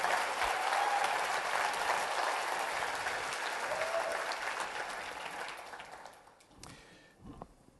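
Loud, dense audience applause at a product presentation event, sustained for several seconds before tapering off into scattered claps and quiet.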